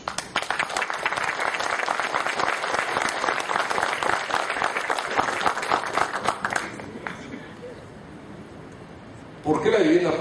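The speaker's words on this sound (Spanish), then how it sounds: "Y pido un aplauso para ellos." Audience applause at a conference on corruption and public housing in Peru, a long sustained burst of clapping from a crowded room that fades after about seven seconds, with a short loud swell near the end.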